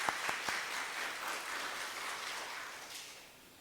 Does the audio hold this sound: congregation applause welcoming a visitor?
yes